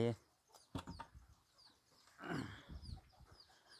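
Chickens clucking softly near a person scattering uncooked rice as feed, with short bursts of bird calls and low murmuring; a voice talks and calls to the birds throughout.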